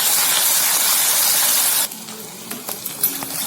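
Mustard seeds, dried chillies and sliced shallots fry in hot oil for a sorrel-leaf kadaiyal, giving a loud steady sizzling hiss that drops suddenly partway through, leaving quieter crackles and a few small pops.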